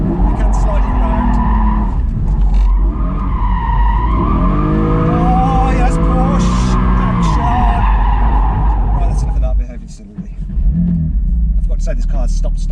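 A Porsche Boxster Spyder engine roars and revs hard as tires squeal and skid through a long slide, followed by a brief dip and renewed engine noise.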